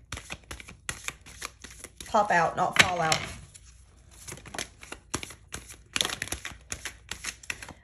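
Crisp, rapid bursts of tarot cards being shuffled, repeating in quick rustling clusters, with a brief spoken phrase partway through.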